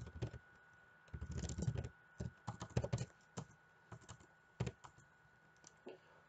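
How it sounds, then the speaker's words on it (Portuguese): Quick bursts of typing on a computer keyboard while setting up a DS18B20 sensor configuration menu, clustered key clicks with short pauses, close and fairly quiet. "deixa eu digitar rapidinho"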